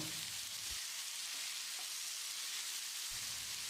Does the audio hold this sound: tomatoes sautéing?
yes